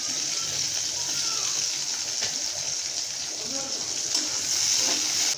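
Chopped garlic and green chilies sizzle steadily in a pan, with a constant loud frying hiss and occasional stirring scrapes, and someone speaking over it.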